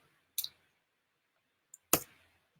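Two crisp mouse clicks on a link, the first a short snap and the second, about a second and a half later, louder and sharper, with quiet between them and no talking.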